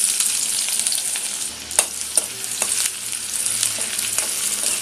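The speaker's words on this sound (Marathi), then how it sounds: "तेल आपलं तापलेलं आहे आणि पहिल्यांदा आपल्याला कांदा फोडणीला द्यायचा आहे।" Onions go into hot oil for tempering and fry with a bright, continuous sizzle close by, broken by a few sharp spatters and stirring clicks.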